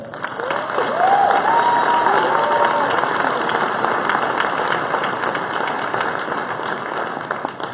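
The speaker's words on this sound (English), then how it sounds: "join me in a well-deserved round of applause for the loved ones" Steady crowd applause at a winter university commencement ceremony fills the space at a strong, even level, with faint whistle-like tones and a few cheers rising briefly near the start.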